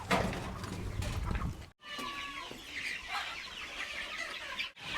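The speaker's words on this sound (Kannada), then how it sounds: "ಇವಣ್ಣ ನಾಟಿ ಕೋಳಿ ಹಾ ಇವಣ್ಣ ನಾಟಿ ಕೋಳಿ ಮರಿ" Native country chickens at a poultry farm in Dharwad give repeated clucks and short calls, fairly close and lively over a faint farmyard background.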